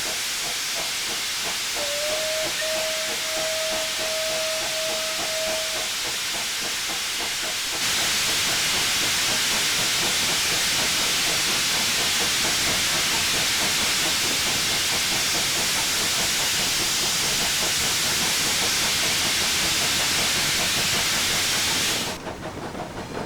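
Loud, steady steam hiss from the cylinder cocks of an SR/BR Bulleid Light Pacific 4-6-2 locomotive in Train Simulator Classic, with a short whistle tone early on and a sharper surge partway through before it cuts off.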